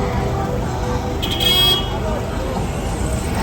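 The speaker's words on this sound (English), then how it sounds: "They love to honk here in Peru," A car horn toots briefly amid steady traffic noise on a busy street in Cusco, Peru, heard from a balcony above, with a voice talking over the road din.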